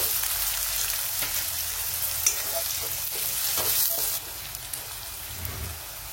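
Onions sautéing with a pinch of salt in a pan, a steady close sizzle with intermittent spatula scrapes and stirring clatter, the hiss easing slightly toward the end.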